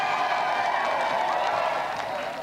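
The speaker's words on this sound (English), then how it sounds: "let's give another round of applause for our challenger" Studio audience applause for a challenger on a televised video game show, a steady broadband wash of clapping that runs the whole time, fairly close and even, easing slightly toward the end.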